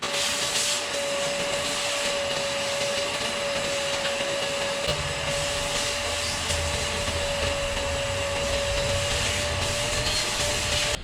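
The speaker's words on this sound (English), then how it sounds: "I'd like to start the season with a clean cab, so I ran the vacuum" A vacuum cleaner runs steadily inside a Case IH Magnum tractor cab, a loud continuous whine and rushing airflow that deepens midway as the nozzle meets the floor, with no voices.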